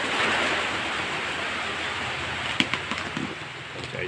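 Rain falls steadily as a dense, even hiss of broadband noise, with a few faint knocks and taps near the end.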